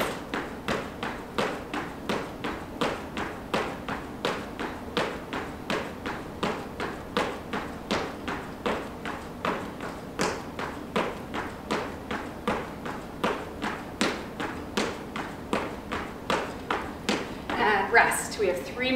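Feet land in a steady, quick rhythm of thumps during jumping jacks or star jacks in a cardio and core workout, evenly spaced and moderately loud for nearly twenty seconds.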